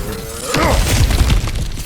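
Objects smashing apart in God of War Ragnarök, a quick cluster of shattering crashes and heavy thuds over about a second, loud and close with no talk.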